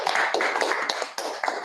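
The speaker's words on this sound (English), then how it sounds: "let's give a big, huge round of applause to today's Toastmaster," Quick, dense handclapping from a small audience at a club meeting, close and steady for a couple of seconds with a brief dip near the end.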